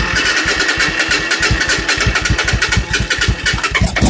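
A Suzuki Intruder motorcycle engine, its clutch switch bypassed, cranks and catches, firing in a rapid, loud, steady pulse that roughens and surges near the end, with no talking.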